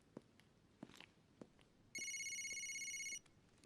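A telephone rings for an incoming call, a single bright electronic ring burst of just over a second, preceded by a few faint soft footstep-like taps in a quiet room.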